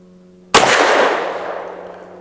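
A single sharp shot from a compact Canik MC9 9mm pistol firing S&B Patron Special XRG 100gr ammunition, loud and close, followed by a long ringing decay.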